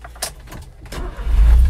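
Suzuki 4x4 Japanese mini truck at the start of a test drive: door and key clatter, a few sharp clicks and handling noises, then the small engine rising into a loud, steady low rumble.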